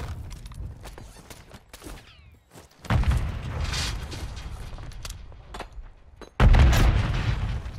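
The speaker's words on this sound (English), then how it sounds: "Cracked him again with the grenade." A grenade blast in the shooter game Call of Duty, two heavy booming bursts that hit hard and roll on with a dense rumbling tail, close and loud, with no talk over them.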